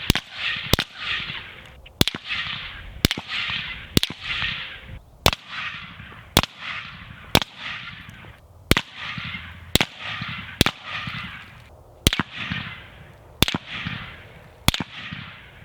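Suppressed rifle shots from a Sylvan Arms SA30Ti titanium suppressor firing .308 and 5.56 rounds, recorded on a camera shotgun mic. About fifteen sharp cracks come at a steady pace, each followed by a hissing echo from downrange.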